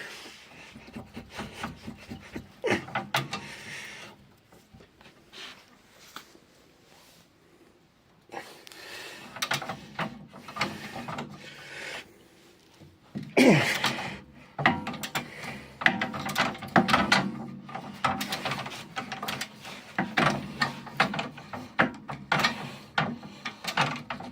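A 21 mm socket and ratchet work on the rear shock absorber of a Golf 6 1.6 TDI, giving bursts of clicking, rubbing and metallic scraping with quiet pauses between.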